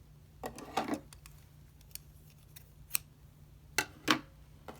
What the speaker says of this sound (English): You grab your thread and cut it at an arm's length.